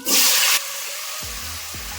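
Half a kilo of sliced raw tomatoes hit a pan and set off a loud sizzling hiss of hot oil that falls back to a steady, softer frying crackle. No one speaks.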